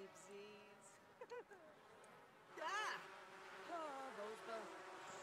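Bees buzz in The Sims 4 life-simulation game, a soft drone running beneath game character voices and chatter for about five seconds.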